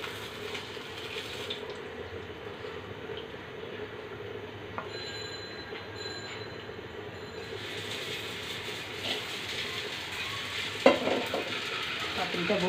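Pieces of catla fish frying in a pan make a continuous close sizzle with faint stirring, and a sharp clink comes near the end.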